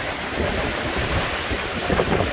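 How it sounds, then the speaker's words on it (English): Ocean waves crashing near a shoreline dock in the Philippines during a tropical storm, a loud continuous roar of surf churned with heavy gusting wind buffeting the microphone, no voices. "Waves are crashing."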